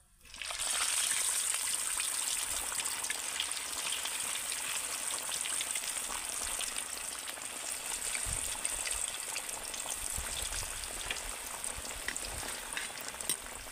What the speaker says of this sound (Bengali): বাকিগুলোকে আমি আরও একটা ব্যাজে ভেজে নেব